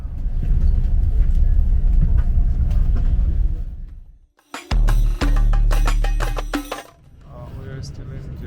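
Steady low rumble inside the Haramain high speed train running from Makkah to Madinah near Jeddah, with voices talking over it; the sound briefly drops out, then returns as a louder hum with tonal whine.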